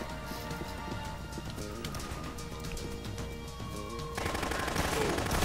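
Gunfire in the Dead Rising video game, rapid repeated shots crackling in a busy mix of game sounds and music, growing denser and louder toward the end.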